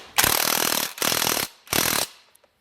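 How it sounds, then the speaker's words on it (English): Three loud bursts of a rattling power impact tool tighten a bolt on an Xpro motorcycle with an M14 socket, each lasting about half a second with brief gaps between. "Then tighten it with an M14 socket."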